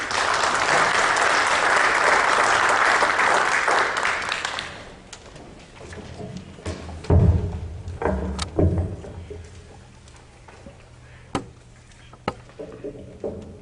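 An audience applauds for Dr. Julio César with loud, dense clapping for about five seconds, then it thins out into scattered claps and a few thumps before fading to near quiet.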